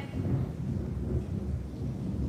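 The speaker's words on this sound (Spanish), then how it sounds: "Ahorita nomás está tronando y lloviendo." Thunder rumbles low and steady through the whole stretch with rain falling throughout, a dense continuous storm sound at moderate loudness and no voices.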